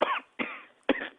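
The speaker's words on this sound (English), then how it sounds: "I can hear you coughing." Three sharp coughs, evenly spaced and close by, each a short rough burst with no talking around them.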